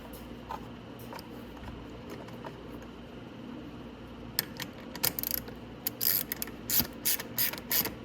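Ratchet tightening a short 10 mm bolt on a Venom 1300W electric ATV body panel: faint quick clicking bursts over a low hum, growing more frequent in the second half, no talking.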